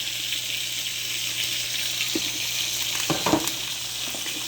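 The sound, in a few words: peppers and onions sauteing in oil in a pan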